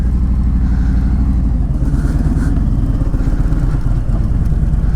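A motorcycle is ridden along a road, its engine giving a loud, close, steady drone with rapid low-pitched pulsing and a constant rush of wind, and no other sounds stand out.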